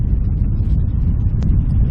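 Loud, rumbling wind buffets the microphone outdoors during a fishing trip, a constant low-pitched roar filling the whole stretch with no clear voices over it.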